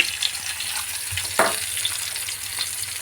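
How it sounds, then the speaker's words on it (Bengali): Hilsa fish oil going into a pot on the stove, a steady sizzle and frying hiss that runs through the whole stretch, with one short thump as the oil lands. "এখন আমি চুলায় পাতিল বসাবো, আর এই পাতিলে ওই তেলের অংশটা দিয়ে দিব।"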